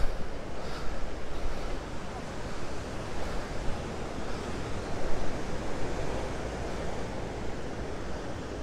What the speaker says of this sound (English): They're nice little waves out there.